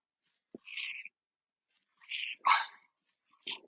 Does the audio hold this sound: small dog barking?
yes